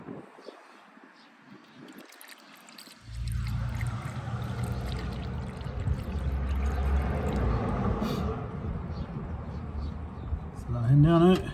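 Wynn's Engine Flush poured into a car engine's oil filler, a steady close glugging pour that starts after a few quiet seconds and carries on with a brief clatter near the end.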